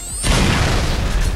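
A shotgun blast in a first-person shooter game: a sudden loud booming report with a broad crashing burst that rings out and carries on as dense, noisy game sound to the end.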